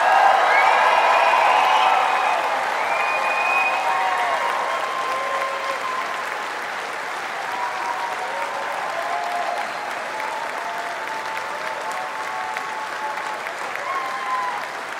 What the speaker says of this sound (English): make as much noise as you like and really applaud them for everything that they've done